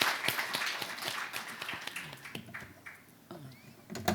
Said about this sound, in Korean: 저는 이 자료를 향해서 큰 박수로 우리가 한번 좀 쳐야 되지 않나 하는 생각이 듭니다